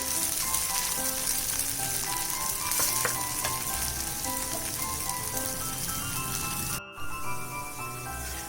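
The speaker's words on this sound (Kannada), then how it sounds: "ಇವಾಗ ಇದನ್ನ ಮುಚ್ಚಿಬಿಟ್ಟು ಹೈ ಫ್ಲೇಮಲ್ಲೇ ಬೇಯಿಸ್ಕೋಬೇಕು." Oats vegetable rotti cooks on a covered pan over a high flame, giving a steady, loud sizzle and crackle throughout with a brief dip near the end, no voices.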